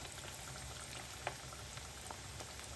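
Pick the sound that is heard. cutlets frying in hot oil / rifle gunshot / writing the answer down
cutlets frying in hot oil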